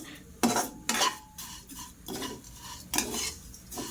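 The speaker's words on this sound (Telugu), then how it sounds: "ఇలా వేయించుకుంటూనే ఉండాలండి, తిప్పుకుంటూ ఉండాలి." Vermicelli roasting in a pan for semiya kesari is stirred in repeated scraping strokes, a series of close, moderately loud bursts with short pauses between them and no talking.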